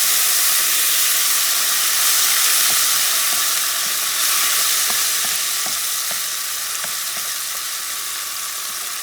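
Grated tomato frying in a pan for Puerto Rican-style rice with Vienna sausages, giving a steady loud sizzle and hiss with occasional small pops, no voices.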